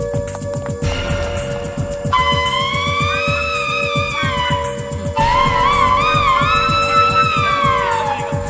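A fire alarm sounds in a scene from a 2012 Hindi Bollywood comedy film, with loud continuous wailing tones that rise and fall in repeated sweeps over a steady rhythmic background track.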